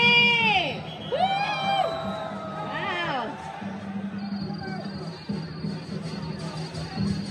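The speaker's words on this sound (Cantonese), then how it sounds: "我哋見到火龍嘅時候，俾啲呼呼聲嚟聽下先" Spectators at the Tai Hang fire dragon dance in Hong Kong let out rising whoops and shouts at the start, followed by a murmuring crowd babble in the background.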